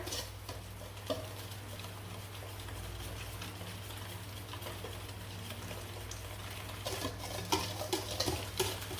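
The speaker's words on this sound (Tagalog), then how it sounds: "Haluin natin ang mixture." Cake batter of milk and oil is stirred in a bowl, soft scraping and light clinks that stay fairly quiet and grow louder with quick taps near the end.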